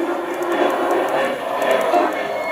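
A Z-scale model train engine runs along a layout with signal blocks, giving a steady, soft electric hum and rattle of wheels on track with no break, close by.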